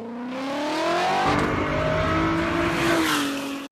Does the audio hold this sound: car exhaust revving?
yes